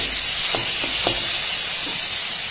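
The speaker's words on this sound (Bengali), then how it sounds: "আর এখন দিয়ে দিলাম আমসত্ত্ব গুঁড়ো, নাড়াচাড়া করে নেব" Mango leather powder is stirred into a mango chutney in a hot pan, a steady even sizzle and hiss with a few soft spoon knocks near the start.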